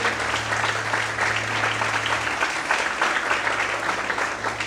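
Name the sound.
congregation applauding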